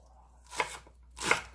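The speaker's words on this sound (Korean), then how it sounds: "송송송송 썰어줍니다." Green garlic being chopped finely with a knife on a board for spring chive kimchi, two close bursts of rapid crisp cutting taps separated by a brief pause.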